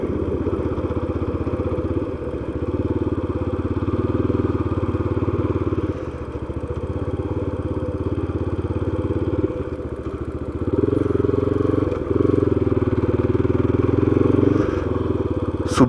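Steady rumble of a motorcycle on the move, the engine rising and easing as the throttle changes, close and continuous throughout.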